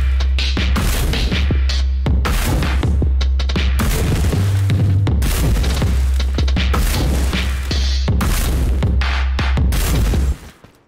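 Rapid, loud gunfire from a weapon fired on the beat in the video game Totally Accurate Battlegrounds, with dense bursts of shots and heavy booms piled over a steady low backing for about ten seconds, then cutting out abruptly.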